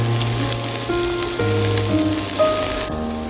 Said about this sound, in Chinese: 油热之后下入葱白和姜末爆香